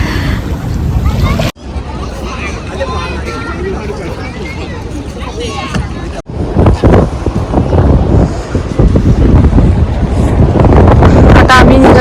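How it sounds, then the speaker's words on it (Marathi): Strong cold wind at Odaiba, Japan roars steadily across the microphone, loud and constant with buffeting gusts, and people talk underneath it through much of the stretch. "ठंडी हवा खूब सुटले है"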